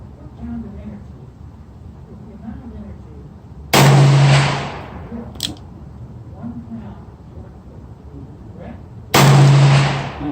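Two sharp, loud gunshots from an S&W model 19-5 .357 Magnum revolver at an outdoor range, about five seconds apart, each a sudden blast with a short ringing tail, with a faint voice between shots.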